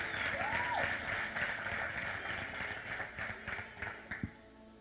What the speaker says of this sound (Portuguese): Vamos dar uma salva de palmas para esse casal tão maravilhoso.